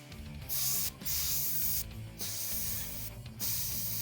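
An airbrush sprays cleaner through its nozzle in three sharp, hissing bursts, each about a second long, with short gaps and a softer steady hiss between them, close up and without talk.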